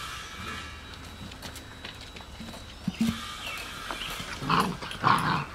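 Young puppies whimper and yip faintly in a room, with a few short high squeals near the end and soft background rustling.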